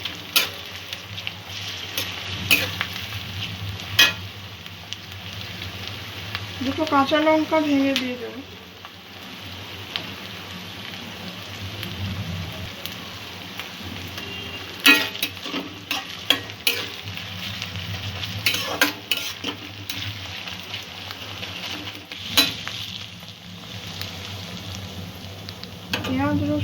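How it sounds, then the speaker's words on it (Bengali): Spices, onion, garlic and ginger frying in oil in a pan for a Bombay duck (loitta) fish curry, a continuous soft sizzle broken by the clatter and scrape of stirring, with someone speaking over it at intervals. "সব কিছু আরও কয়েক মিনিট একটু ভালো করে ভেজে নেব"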